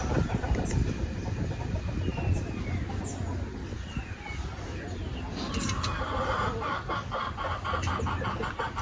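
Chickens cluck and a rooster calls outdoors near a house, scattered clucks under a steady rumbling background, with people talking faintly nearby.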